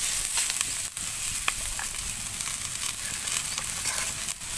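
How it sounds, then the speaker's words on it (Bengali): Garlic, cauliflower, ginger and cabbage fry lightly in a pan for veg momo filling, a steady close sizzle with faint crackles and occasional stirring scrapes. "সেই সব কিছু আমি হালকা করে ভেজে নেব।"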